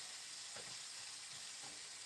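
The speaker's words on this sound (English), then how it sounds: "Give this another stir." Greek style stuffing sizzles steadily in a hot pan on higher heat as it is stirred, with a continuous frying hiss and a few soft scraping strokes, close and fairly quiet, with no talking.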